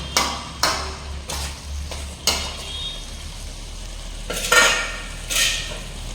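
Food in a cooking pot being stirred with a metal spoon, a few scattered clinks and scrapes against the vessel over a low steady hum.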